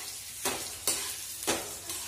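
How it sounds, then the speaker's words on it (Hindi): Potatoes frying in a pan on a home kitchen stove, with a soft steady sizzle under four distinct scraping stirs spaced about half a second apart, close and moderately loud. "तो मेरा नया वाला आलू है, थोड़ा टाइम लगेगा और पहले उसको अच्छे से भून लेती हूँ।"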